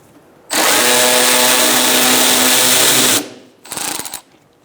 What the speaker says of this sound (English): taking out this bolt with a 10mm socket